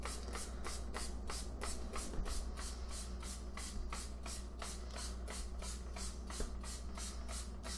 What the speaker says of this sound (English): Notice I'm using a small mister. I prefer this because it produces a finer mist